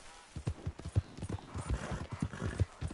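Horse hooves clip-clopping in the video game Red Dead, a quick, even run of close hoof beats with a faint snort mixed in.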